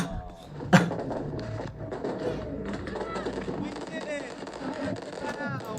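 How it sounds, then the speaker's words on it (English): Fireworks in a watched video, one sharp bang near the start followed by softer crackles and pops under a busy mix of people talking. "They end on fireworks."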